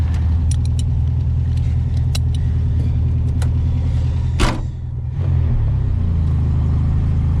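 A Baja Bug off-road car drives with a loud, steady engine rumble and road roar, a sharp clatter partway through, then a brief change in engine pitch as it keeps moving.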